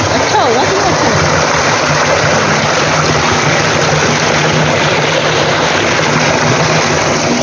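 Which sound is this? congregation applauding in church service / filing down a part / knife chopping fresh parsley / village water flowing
village water flowing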